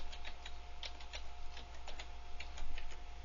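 A file name is tapped out on a computer keyboard, a quick irregular run of crisp, close key clicks over a faint steady hum, with no voices.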